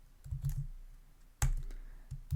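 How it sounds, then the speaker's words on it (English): Typing on a computer keyboard, a few quiet clusters of key clicks and one sharper keystroke, close but soft, in an otherwise quiet room. "let's type lower end"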